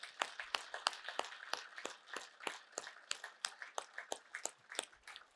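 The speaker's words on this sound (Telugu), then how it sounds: "సరే సేత్ మాస్టర్ గట్టిగా క్లాప్స్ చేద్దాం" An audience claps together in a meditation session, a rapid run of sharp hand claps that carries on steadily at moderate distance with no talk over it.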